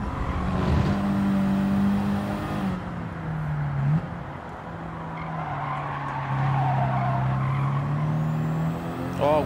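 Race car in Gran Turismo 7 braking hard into a corner, tires squealing loudly over the steady engine drone, with a second downshift and brief skid near the end; no talking.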